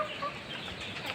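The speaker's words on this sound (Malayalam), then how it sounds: "ഇത് നമ്മുടെ നാടൻ കോഴിയാണ്." Faint, scattered clucking from native Kerala chickens on a small home farm, soft and brief over a low background hiss.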